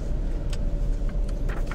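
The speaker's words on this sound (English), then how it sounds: "we are inside the car now" Steady low engine rumble and road noise heard from inside a moving car, constant and close, with faint higher rattles over it and no talk.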